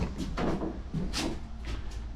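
Back door of the cabin on a Starcraft Chieftain boat being rebuilt, opening or closing with a few soft wooden knocks and a latch click, close by over a low background hum.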